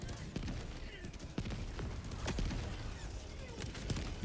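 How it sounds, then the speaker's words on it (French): An automated turret in the video game Helldivers 2 fires steady, rapid bursts of gunfire against bots, with a dense rattle of shots running throughout while someone talks over it. "Bon, la tourelle, elle fait quand même bien le taf, hein."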